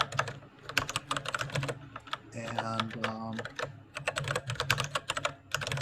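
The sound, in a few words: typing on a mechanical keyboard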